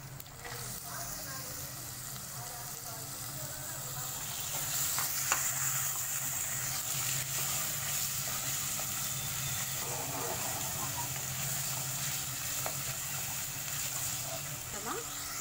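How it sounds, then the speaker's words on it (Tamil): Mutton frying with ginger garlic paste in a pan makes a continuous loud hiss and sizzle that thickens after a few seconds, with faint stirring taps throughout. "இஞ்சி பூண்டு பேஸ்ட் போட்டு நல்லா அதோடைய ராஸ்மெல்லாம் போகணும். இப்போ நம்ம இந்த மட்டனை போட்டுக்கலாம்."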